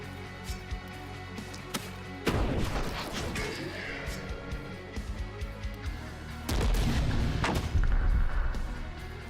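Mortar fire booms in The Last Spell video game, heavy blasts landing over a battle din, with a big burst of impacts early and another dense volley later, each followed by rumbling debris.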